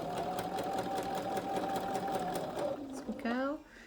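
A sewing machine runs steadily, stitching over a seam while joining quilt blocks, its needle chattering in a fast even rhythm. It slows and stops near the end, and a person talks over it.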